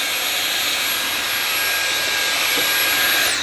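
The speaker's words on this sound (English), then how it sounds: "Now I also get the vacuum cleaner and I run around this bit here." A vacuum cleaner runs steadily with a loud, high-pitched whine and broad airy hiss, unbroken for the whole stretch.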